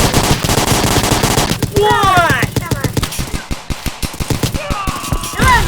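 AK rifle fire in the Dude Theft Wars video game rattles out in rapid, loud bursts and single shots, with a voice talking over part of the shooting.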